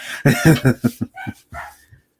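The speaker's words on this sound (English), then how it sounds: "see that my dog wants to bark now" A dog close by lets out a quick series of short barks and yips, about eight in a row that trail off softer toward the end, with no talk over them.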